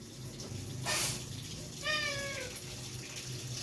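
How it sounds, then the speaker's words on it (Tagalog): Cat meowing while begging for food, one clear drawn-out meow in the middle, preceded by a short burst of noise, with a faint low hum in the background. "Nagmamakaawa na yung aking pusa."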